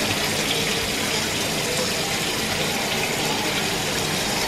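Water is poured or run onto a tortilla to wet it while making a prison burrito: a steady, fairly loud hiss of flowing water that lasts the whole stretch without a break.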